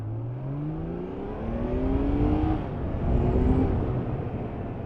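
A 1979 Honda CBX1000 motorcycle engine drones and revs steadily, pitch rising and falling in smooth sweeps under a constant rushing roar.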